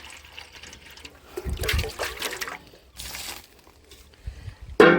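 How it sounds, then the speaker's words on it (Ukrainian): Water splashes and sloshes as a bucket is rinsed by hand. The clip has short bursts of swishing and pouring with quiet gaps between them, and a sharper splash comes at the end. "Зараз полоснемо відерце. Ще разочок сполоснемо."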